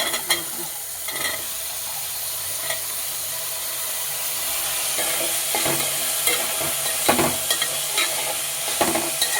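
Vegetables and sliced tomato sizzling steadily in a hot pan for an aloo dal dish, with intermittent scraping stirs of a spatula close by and no talking.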